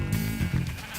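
Sheep in Minecraft bleat once in a short, wavering call, close and fairly loud over a steady background hum.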